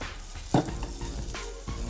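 Okra cooking for a kichadi sizzles steadily in an uncovered pan after steaming under a lid, with a brief clank of a utensil early on amid the soft, continuous frying hiss.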